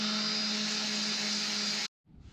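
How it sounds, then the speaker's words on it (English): An electric sander runs on cut wooden plaque pieces with a loud, steady whir, then cuts off abruptly, followed by a brief faint rustle. "So let's get them to the sander."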